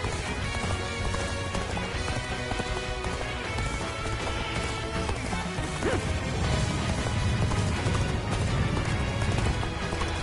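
A horse gallops with rapid, continuous hoofbeats in the Dynasty Warriors Origins video game, buried in a dense, loud mix of battle clashes and game music.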